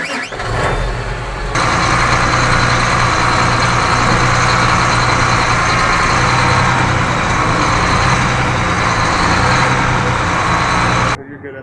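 A truck is being moved into a shop, its engine running loud and steady at close range for most of the stretch, with a rumbling low drone and broadband mechanical noise before it cuts off near the end.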